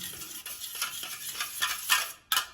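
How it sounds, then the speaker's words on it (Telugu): Curd thinned with an equal amount of water is beaten briskly in a bowl for Mysore bonda batter, giving a run of close, scraping whisk strokes in uneven bursts with a short pause near the end. "దీన్ని బాగా బీట్ చేసుకోవాలి"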